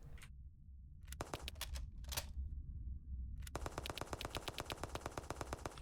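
Rapid automatic gunfire from a weapon in a roguelike shooter video game, opening with a few separated bursts and single cracks, then settling into a steady, evenly spaced stream of shots that runs to the end.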